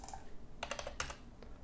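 Soft keystrokes on a computer keyboard entering a value, a short burst of four or five quick clicks followed by a single later tap, faint against a quiet background.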